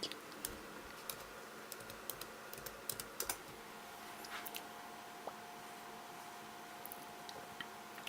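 Fast typing on a computer keyboard with quick irregular key clicks in bursts, faint and close over a low background hum, with no talking.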